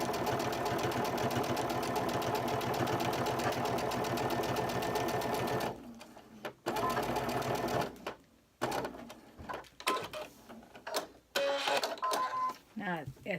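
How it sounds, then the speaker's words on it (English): A sewing machine stitches fabric for scissor blade protectors in a fast, steady run, then breaks into short stop-start bursts with pauses between them. "See if I can sew it up a little bit there"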